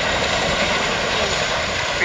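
A Chinook helicopter flying at the Royal International Air Tattoo air show, a steady, loud, broadband rotor and engine roar that holds evenly throughout while a voice speaks over it.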